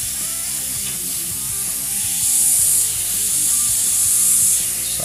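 An airbrush sprays paint in a steady, close hiss while softening and blending a small feather detail on a phoenix painting, growing slightly louder partway through, with no voices.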